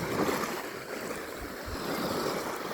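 Strong sea waves churning close by at a beach, a continuous rushing roar with low thumps of breaking surf and wind noise on the microphone, no voices.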